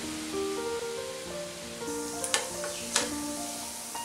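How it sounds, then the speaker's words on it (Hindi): Crispy noodles deep-frying in hot oil, a steady soft sizzle and bubbling hiss throughout, with a couple of brief louder crackles near the end, no voices. "नूडल को गोल्डन ब्राउन होने तक फ्राई कर लेंगे"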